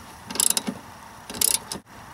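A ratchet tightens the blade bolts on a lawn mower in two quick bursts of rapid close clicking, separated by a short pause, with no talking.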